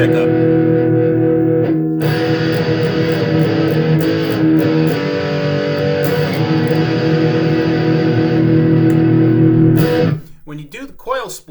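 An electric guitar played through the bridge pickup with distortion rings out as one loud, sustained, saturated chord for about eight seconds, then cuts off, followed by a few short plucked notes.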